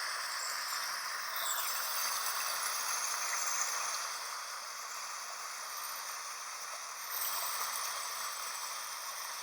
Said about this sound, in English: there's a little river running through it at the back